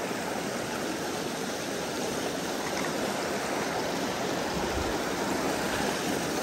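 Steady rushing water from a small waterfall pouring into a flowing creek, a constant broad wash of sound with no voices.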